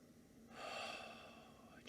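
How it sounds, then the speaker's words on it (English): A single slow, deep breath, soft and close, drawn in and released under a quiet, calm background. "just taking a few deep breaths"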